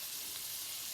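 Liver frying in a very hot pan, a steady, bright sizzle with crackling, continuous and close, heard alone.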